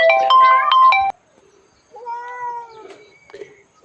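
A young cat at a temple in Lampang meows close by: a loud, drawn-out cry is followed after a pause by softer, shorter mews.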